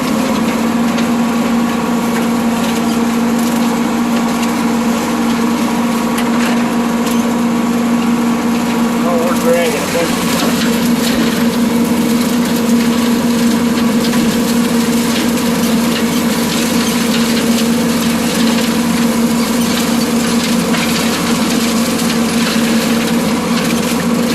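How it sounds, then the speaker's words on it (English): A tractor engine drones steadily at close range with a constant mechanical hum, the rough grinding of a 15-foot brush hog mower cutting cornstalks underneath throughout. "It's a 15-foot brush hog, so it sticks over there about 3 feet past the tractor tire."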